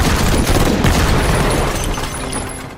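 A burst of sustained gunfire in an action film shootout, with dense overlapping shots and booms forming a loud, continuous barrage that fades out at the end.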